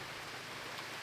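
Rain falls steadily all day at a rural home, a dense, even hiss of drops on surfaces, fairly faint and uninterrupted.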